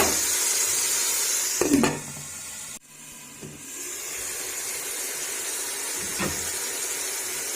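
Mutton karahi fries in a pot with a steady, close sizzling hiss, broken by a couple of brief stirring knocks partway through.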